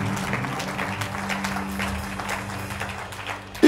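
Congregation applause during a church morning service, a steady wash of many hands clapping throughout, with a brief louder burst at the very end.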